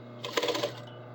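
A sewing machine stitches the long underarm and side seam of a sleeved shirt, giving a brief close burst of fast needle chatter lasting about half a second, then a quiet hum, with no talking.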